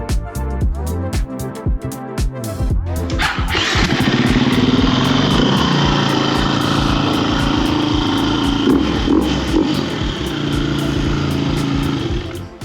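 Dirt bike engine cranked with a starter, a few clicks, then catching and running at a loud, steady high-pitched idle with small throttle blips, close by, no talking.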